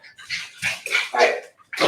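Puppies at a live-streamed restorative yoga class let out a string of short, close yips and whimpering cries, several quick bursts with brief pauses between them.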